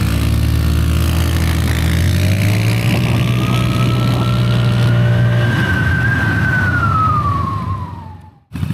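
Lambretta G 350 and X 300 SR scooters accelerate hard from a standing start, with a loud close engine note whose pitch climbs steadily, then fades as they pull away.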